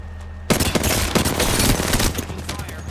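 Sustained automatic gunfire in the Apex Legends battle royale game, loud rapid bursts erupting suddenly and continuing nearly without pause, close and dense.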